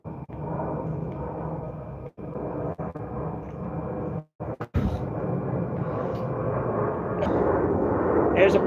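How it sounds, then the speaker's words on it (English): A plane passes somewhere overhead as a steady broadband rumble that drops out twice, then swells slightly louder toward the end, heard at moderate distance. "There's a plane going by"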